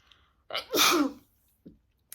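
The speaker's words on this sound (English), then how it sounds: "I need to sneeze." A single loud sneeze bursts out close by, with a sharp intake of breath first and a small sound after, otherwise quiet.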